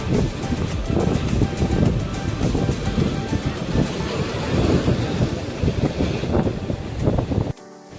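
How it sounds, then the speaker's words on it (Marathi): Arabian Sea waves wash in at Mandavi Beach in Ratnagiri in the evening. Wind buffets the microphone in loud, rushing gusts over the surf for several seconds before cutting off abruptly. "समुद्राच्या लाटांचा मधुर आवाज, सुंदर वारा आणि शांत वातावरण मनाला वेगळीच ऊर्जा देतात"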